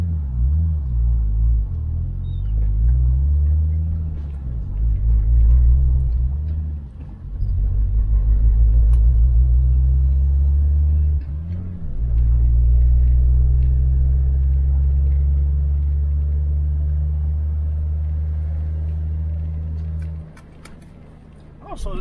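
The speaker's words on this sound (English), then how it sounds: "I'm gonna take a drive in the car right now to see if the differential if everything functions properly" Turbocharged Lexus GS300 on a test drive after a blown differential and new driveshaft, its engine droning loudly and steadily from inside the cabin with rising and falling revs through gear changes, a low rumble throughout.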